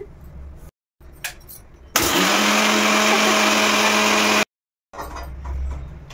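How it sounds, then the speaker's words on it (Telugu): A kitchen mixer grinder powders rock sugar with four or five cardamom pods, a loud steady whir that runs for about two and a half seconds between quieter stretches with faint background sounds. "ఇగో పటిక బెల్లాన్ని నేను ఇప్పుడు పంచదార పౌడర్ లాగా మిక్సీ పట్టేస్తాను"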